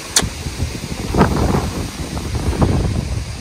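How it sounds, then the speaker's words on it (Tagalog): Strong typhoon wind buffets the microphone in heavy gusts, producing a rough, roaring rumble throughout with brief sharper bursts. "Mamaya baka lumakas pa tong hangin na to."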